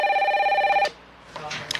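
A telephone rings with a steady electronic trill for an emergency call after an accident, then cuts off, followed by faint background sounds.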